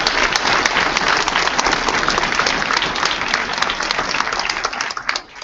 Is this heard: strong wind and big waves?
no